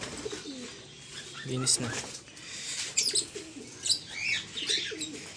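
Pigeons in their loft coo and chirp close by, with a few flaps of wings, while someone speaks briefly in Filipino.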